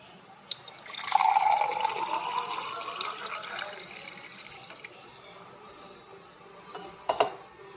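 Water is poured into a glass, a rising trickling stream lasting a few seconds, close and moderately quiet, followed by faint sounds of drinking and a light clink near the end.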